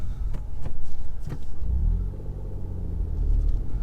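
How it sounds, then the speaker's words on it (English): A Stage 1 tuned Ford Fiesta ST revs hard with a deep, loud engine rumble, and a few sharp exhaust pops and bangs crackle through early on before the note settles into a steady low drone. "Pops and bangs from the exhaust."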